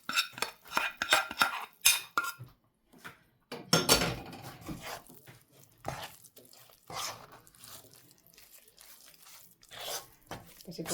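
Jaggery being mixed into flour in a pan in a home kitchen, with irregular scraping, clinking and crunching of a utensil against the pan in short bursts separated by pauses.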